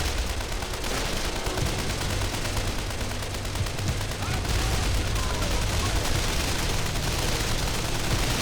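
Machine gun fire in the World War II strategy game Men of War: Condemned Heroes rattles in dense, continuous bursts with distant booms, loud and unbroken across the whole stretch.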